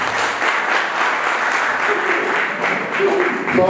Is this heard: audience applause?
yes